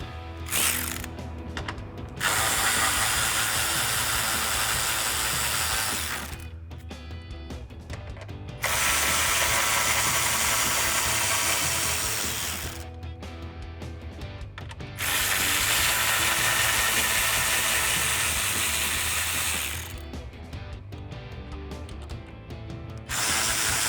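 A hand ratchet with a 10mm socket backs out the top grille bolts on a 2009-2018 RAM 1500, giving loud rapid clicking bursts in several runs separated by short pauses.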